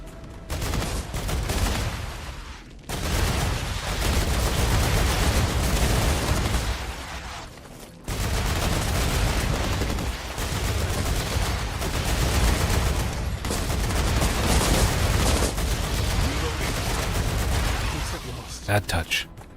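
Sustained gunfire and explosive bursts in the sci-fi shooter game StarRupture, loud and dense across most of the stretch with a brief pause near three and eight seconds, mixed with game effects and faint voices.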